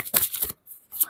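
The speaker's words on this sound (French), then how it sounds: "Allez, je prends quelques cartes." Tarot cards shuffled by hand in quick riffling bursts, close and crisp, a short flurry, a brief pause, then another quick shuffle.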